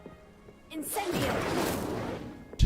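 An Incendio fire spell in Hogwarts Legacy erupts with a rising whoosh into a broad roaring burst of flame that swells and sustains for over a second, ending in a sharp low thump.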